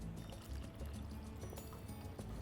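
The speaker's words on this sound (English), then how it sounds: "And now I'll add a cup of water." A cup of water poured into a pot of vegetarian Thai noodle soup already holding coconut milk and curry paste: a soft, continuous splashing pour, faint and close, with no talking.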